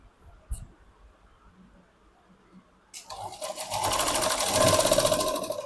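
A sewing machine stitches a seam on a princess cut blouse, starting abruptly after a quiet stretch and running steadily and close for the last few seconds.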